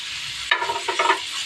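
Cashews and sesame seeds are dry-roasted in a pan for a paneer masala, a short burst of rattling, scraping stirring in the middle of an otherwise quiet hiss.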